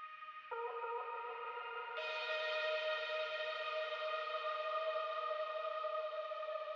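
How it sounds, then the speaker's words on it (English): Synth vocal chops drenched in reverb and saturation sustain as bright layered tones, a new chord entering after half a second and a higher, shimmering layer joining near two seconds, ringing steadily and fairly quietly. "I'm using a lot of reverb and saturation on these chops."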